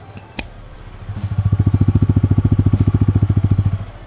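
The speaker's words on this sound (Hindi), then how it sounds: "So this is how the bike sounds on idol." A Yamaha MT15 motorcycle idles close by with a steady, rapid low thumping pulse after a couple of sharp clicks, the loping beat holding evenly for a few seconds before dropping away.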